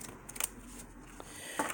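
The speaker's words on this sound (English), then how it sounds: "let's give these a nice shuffle" Close, crisp riffling and snapping of a deck of tarot cards being shuffled, a few quick bursts with soft rustling between them.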